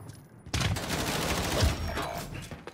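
Sustained gunfire in an online shooter video game, a dense continuous burst of machine gun fire, loud and close.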